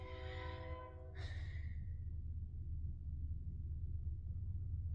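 A train horn sounds a sustained, loud, layered tone for about a second. A brief breathy sigh-like sound follows, then a steady low rumble continues.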